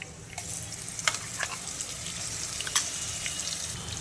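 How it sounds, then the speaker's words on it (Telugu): Onion chili paste frying in oil over a medium flame for spinach onion-chili curry, a steady close sizzle with scattered crackles and light scraping, no voices. "ఇప్పుడు ఈ ఉల్లి కారాన్ని మనం ఆయిల్లో ఒక 2 to 3 మినిట్స్ పాటు మీడియం ఫ్లేమ్లో పెట్టుకొని ఫ్రై చేసుకుందాము"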